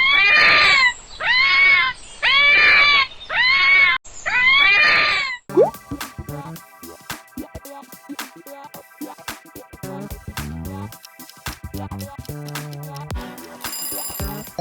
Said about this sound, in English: Fox. Their screams have probably convinced more than a few people something terrifying was outside.